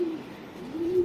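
A racing pigeon loft carries low, rolling coos, two drawn-out calls near each end with a quieter stretch between, close and clear without talk.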